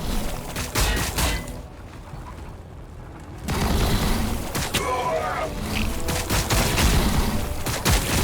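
Battlefield gunfire and heavy impacts in Warhammer 40,000: Battlesector, a loud continuous roar of shots and rumbling blasts that briefly drops away before surging back, dense and close throughout.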